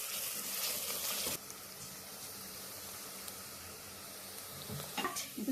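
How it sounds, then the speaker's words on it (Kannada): Onions frying in oil until golden for a chicken dum biryani garnish, a steady soft sizzle with an early louder rush and a few faint stirring clatters near the end. "ಫಸ್ಟ್ ಇದು ಫ್ರೈ ಆಗಲಿ, ಚೆನ್ನಾಗಿ ಫ್ರೈ ಆಗಲಿ"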